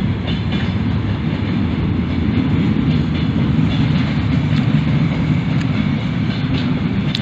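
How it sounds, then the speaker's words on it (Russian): A freight train of flatcars passes on the rails, a loud, steady rumbling roar with faint rhythmic wheel clatter that holds constant throughout, close by and without talk. "Сейчас как раз товарняк едет. Вот вы слышите, наверное."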